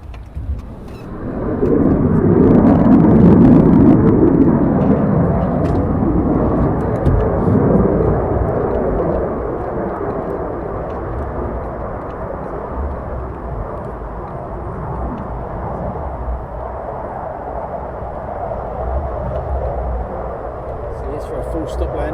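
A fighter jet making a full stop landing at RAF Lakenheath, a loud broad engine roar that swells early and then settles into a steady rumbling wash as the jet rolls out, with someone talking over it.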